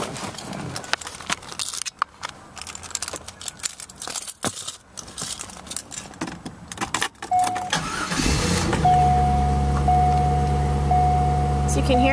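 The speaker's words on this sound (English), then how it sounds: "I'll start it up for you, Josh, so you can hear how it sounds." A 2000 Chevrolet Corvette starts up: after rustling and clicks near the driver's seat, the starter catches and the engine fires into a loud, steady, close idle that holds for several seconds.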